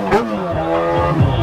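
A car accelerates away, the engine note climbing in pitch over a second and a half, loud and close, with a voice talking over it.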